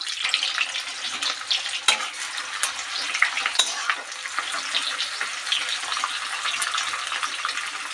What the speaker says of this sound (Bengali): এভাবে ছাড়িয়ে ছাড়িয়ে আমি পেঁয়াজটাকে বাদামি বাদামি লাল করে নেব।